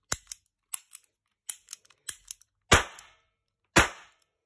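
A chrome Mondial Model 1917 blank-firing revolver goes off twice with loud, sharp bangs that ring out, preceded by a series of light metallic clicks and cocking sounds, with no talking.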